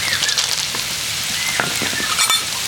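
Onion, green chilli and peanuts frying in a pan, giving a steady close sizzle and crackle with scattered pops, loud and continuous with no talk.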